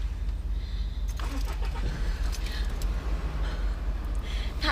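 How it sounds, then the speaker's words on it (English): A stalled car engine is cranked and restarted, a low continuous rumble running under faint clicks and rustles, with a short broadband burst partway through as it catches. "And then restart the engine."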